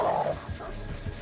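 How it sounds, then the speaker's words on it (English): A dog barks a few short, muffled times at a distance, low and soft under a steady background hum, with no talking. "What the dog doing?"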